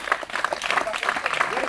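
Church congregation applauding and cheering during a midnight prayer service, a dense continuous wash of clapping mixed with voices, steady and fairly loud throughout.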